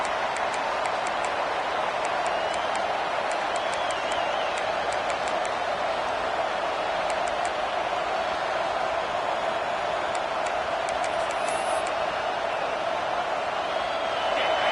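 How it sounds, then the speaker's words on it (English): Continuous roar of a packed Auburn football stadium crowd cheering at full volume, a dense steady wash of voices holding throughout with no pauses. "This crowd, full throat, spreading the eardrums and letting them know it's going to be a long day."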